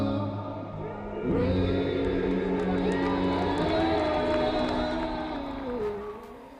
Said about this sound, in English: And you can hear the energy right now going on in the crowd.